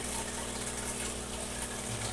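An aquarium vacuum draws tank water through its hose with a steady hissing, gushing flow and a low pump hum underneath, constant and moderately quiet with no speech.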